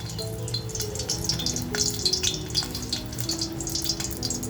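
Garlic goes into hot oil in a heated pot for a Malvani-style fish curry, crackling and spitting in dense bursts with a bubbling, watery fizz, close and fairly loud, with no talk.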